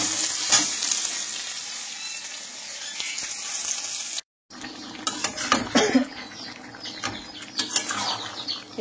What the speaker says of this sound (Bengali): এই কাঁচা টমেটোর ডালও আমি এই প্রথমবার করছি।